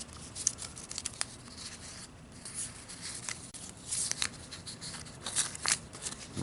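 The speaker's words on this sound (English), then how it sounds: "Try shuffling some more." A deck of playing cards being shuffled and cut, giving quiet, crisp riffling bursts and soft papery flutters that come in uneven clusters across several seconds, with no voices.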